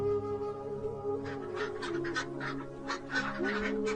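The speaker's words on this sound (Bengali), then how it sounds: "ওই তো আমাদের হাঁসগুলি পুকুর পাড়ে কি সুন্দর করে ঘাস খাচ্ছে" Cartoon ducks by a village pond let out a quick string of honking quacks, fairly close, over a steady tonal background.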